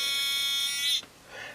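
A piezo acoustic transducer beeper gives a steady, shrill electronic tone up close for about a second, then stops abruptly, leaving a faint fainter tone trailing after.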